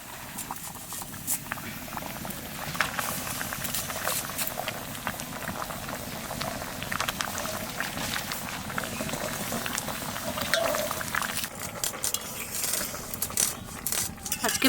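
Dal made with Malabar spinach (pui shak) stalks boils in a pot, giving a steady, close, continuous bubbling with scattered pops and small splatters throughout.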